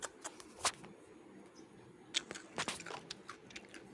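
Someone eating chicken and rice, with a few close crunchy bites and soft chewing sounds in short bursts over a quiet background.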